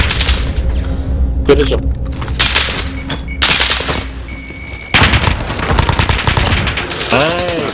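Gunfire in the video game Call of Duty: Modern Warfare, loud and close: rapid automatic bursts and single shots with heavy booms, alternating with brief lulls. A voice talks over the shooting.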